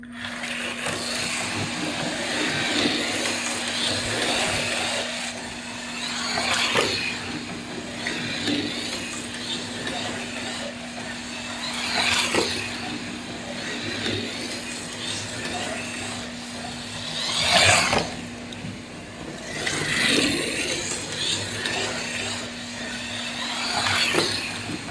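A Fly 1/32 Alfa Romeo GTV rally slot car, freshly repainted, runs laps on a track with a steady electric motor whine and periodic louder swells as it passes close, continuous throughout.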